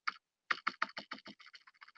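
A cheap ten-dollar computer keyboard is typed on up close, one lone keystroke and then a quick run of about a dozen clacky presses that gradually soften.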